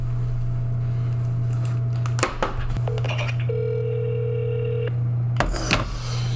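A phone call to a number from a Duolingo ad produces a long steady tone, a few sharp clicks and a held beep, heard up close over a constant low electrical hum.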